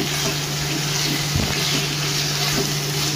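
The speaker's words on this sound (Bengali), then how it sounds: "এখন এর মধ্যে দিয়ে দেবো চিকেন, দিয়ে একটু নেড়ে দেবো।" Chicken frying in a pan with ginger and garlic, a loud steady sizzle with a steady low hum beneath and a brief scrape of stirring partway through.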